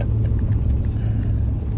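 Newly bought tow truck rolling along bumpy back roads, a loud, close, continuous engine and road rumble with low, rough thumps.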